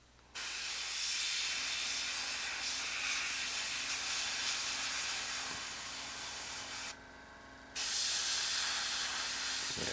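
Aerosol spray paint hisses steadily in long bursts as a coat goes onto sci-fi tabletop wargame terrain bases, with a brief pause near the end before spraying resumes; no talking.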